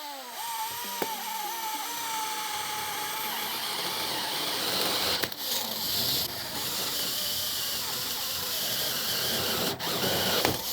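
A sharpened drill bit bores through a 1.2 mm wall metal tube, giving a continuous loud whirring grind with a brief shift in tone midway and again near the end.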